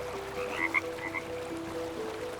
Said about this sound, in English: the mountain yellow-legged frog, scientifically known as Rana muscosa,